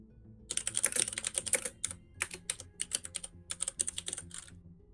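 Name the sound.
computer keyboard typing by a commentator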